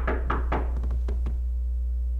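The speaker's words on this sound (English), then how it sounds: "Somebody's knocked on my window." Knocking on a window, a quick series of close, sharp knocks: three firm raps, then several lighter taps in a rapid burst, over a steady low hum.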